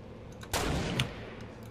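A gunshot burst in the Fortnite battle royale game, fired with a new SMG, cracks out loud at mid-clip over a steady low game background, with a second smaller shot about half a second later.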